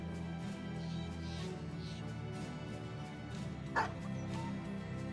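War dogs in the game Battle Brothers give soft barks and yips at a distance, a handful of brief calls over a low steady music bed.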